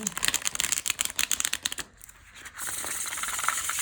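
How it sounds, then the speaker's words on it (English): Tarot cards of linen cardstock are shuffled in rapid riffling bursts, a flurry of papery flicks followed by a brief pause and a softer rustle. "the deck that shuffles absolutely the best"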